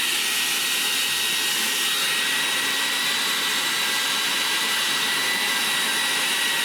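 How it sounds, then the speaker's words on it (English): A hairdryer blows hot air over acrylic paint on a moorland painting, a loud, steady whoosh that runs without a break and drowns out any other sound. "I'll give it one more go with the hairdryer."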